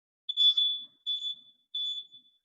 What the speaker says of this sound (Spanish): una alarma con una señal tipo T3, 3 pitidos, pip, pip, pip, con una frecuencia del orden de los 520 Hz